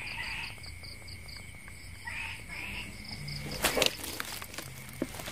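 Frogs call at night during the rainy season in a rural Mekong Delta setting, repeated croaks mixed with steady insect chirping, with a burst of rustling and handling noise partway through.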